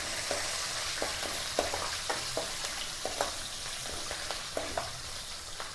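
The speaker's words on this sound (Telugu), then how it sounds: "మినపప్పును శనగపప్పు ఫ్రై చేస్తున్నాను ఆయిల్లో." Urad dal, chana dal and green chillies frying in oil, a steady sizzle with small crackles and stirring taps scattered throughout, close and even in level, no voices.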